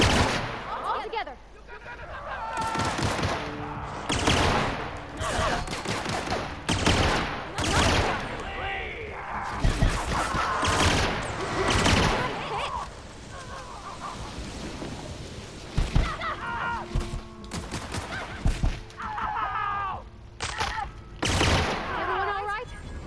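Bursts of gunfire in the video game The Outer Worlds, repeated sharp shots and short volleys spread through the stretch, with a voice talking between them.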